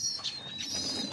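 Domestic racing pigeons kept by a fancier coo softly in their loft, a low, murmuring call rising briefly over a faint background with a thin high tone running through it.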